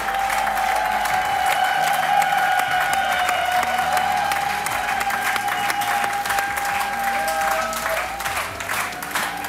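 Prolonged, unbroken clapping from the audience at Hungary's A Dal 2021 televised song contest honors a singer, a dense even roar of hands with light cheering underneath.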